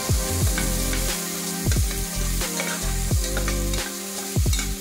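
Diced tomato and an oats mixture sizzle steadily in a hot pan, stirred in a loud repeating rhythm of scrapes every second or so, with no talking.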